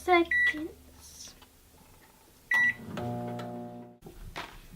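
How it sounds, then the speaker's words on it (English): A microwave oven heating a bowl of melted Starburst slime mixture with the mixing tool inside, sharp beeps from the keypad followed by the steady hum of the running oven, which stops near the end; a voice speaks early on. "your bowl and your mixing tool to the microwave, and you do it for 30 seconds."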